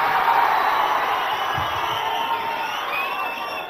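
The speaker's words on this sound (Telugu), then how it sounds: "మీరు అరుపులు కేకలు తగ్గిస్తే మాటలు వినిపిస్తాయి మీ ముందు." Fans at a Janasena political rally keep up a continuous roar of shouting and cheering, dense and steady, moderately loud and at a middle distance.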